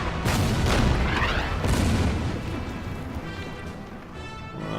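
Bombs dropped on infantry in the wartime strategy game Order of Battle, set on the Burma Road around Imphal in 1944, bursting in a dense run of deep, loud booms and crashes that roll over one another and never quite die away.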